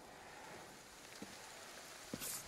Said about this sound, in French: cette pluie, toujours il pleut ici